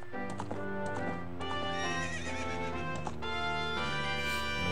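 Horse galloping and leaping over a wall in the video game Zelda Ocarina of Time: clip-clop hoofbeats with loud neighing and whinnying calls, set against a bright, tonal game music backdrop.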